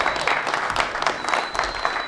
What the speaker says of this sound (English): Yeah, you can clap, you can clap.